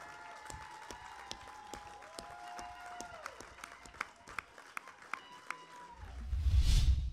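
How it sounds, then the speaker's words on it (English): A television karaoke competition audience claps for its contestants, with sparse, scattered claps over a soft background and a brief swell of noise at the end. "Round of applause to all our contestants."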